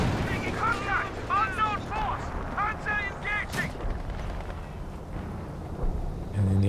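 Machine gun and artillery fire in Company of Heroes 2 on the Port of Hamburg map, heavy booms and rattling bursts under a busy battle mix, with voices and shouts mixed into the fighting.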